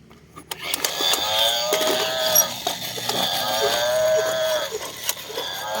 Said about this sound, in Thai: โอ้ยแม่วัวมาแล้ว